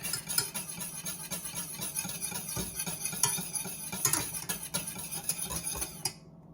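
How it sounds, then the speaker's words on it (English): A spoon scrapes steadily around the corners of a pot of simmering keto chocolate syrup on a stove burner, close and continuous, with soft bubbling and clinks, and no one talking. "So I always try to scrape in the corners of the pot."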